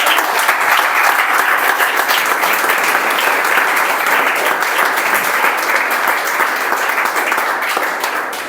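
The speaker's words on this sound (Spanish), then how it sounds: "Dale un aplauso al Señor." A church congregation at a Spanish-language evangelical service breaks into loud, sustained applause for the Lord, a dense even roar of clapping that holds steady for over eight seconds and eases slightly at the end.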